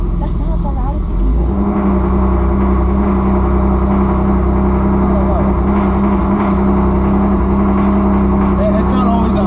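A car engine idles loud and close with a deep, steady rumble right after starting, while people talk over it.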